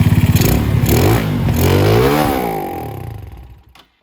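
Venom X22r minibike engine fitted with a Nibbi carburetor runs loud and close, revving up with rising pitch, then dropping and cutting out near the end.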